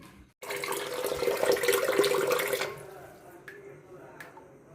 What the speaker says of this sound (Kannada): ಬಾಂಡೆ ಎಲ್ಲ ತಿಕ್ಕಿನಿ ಸ್ವಲ್ಪ ಸಿಂಕ್ ಎಲ್ಲ ಕ್ಲೀನ್ ಮಾಡ್ಬೇಕಂತಂದ್ರೆ